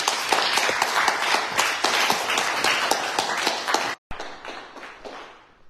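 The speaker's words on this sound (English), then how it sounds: "applause for Richard." Congregation applauding at a fellowship Sunday church service, steady close clapping that cuts off abruptly and then trails away with a few scattered claps.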